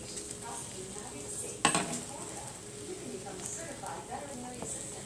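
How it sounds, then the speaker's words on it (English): An omelet being flipped in a frying pan, one sharp clatter of the pan followed by a low continuous sizzle, with faint kitchen sounds around it. "Let me flip it."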